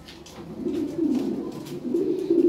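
Lahore pigeons coo in low, rolling, repeated calls up close, with soft wing and movement noises between them.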